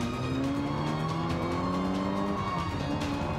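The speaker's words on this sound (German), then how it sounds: "Abkürzen, Handbremse, zack. Und Gas geben." A race car in Forza Motorsport 5 on Xbox One swings through a handbrake turn, then accelerates, its engine droning and rising in pitch with faint tyre scrub throughout, loud and continuous, with no talking.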